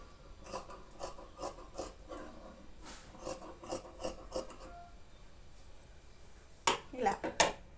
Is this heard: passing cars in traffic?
no